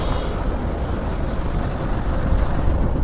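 Heavy road traffic fills the scene with a dense, steady rumble of vehicles on the road between Latur and Pune, loud and continuous with low engine drone and no talking.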